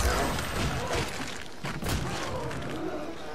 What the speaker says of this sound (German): Zombie Explosion.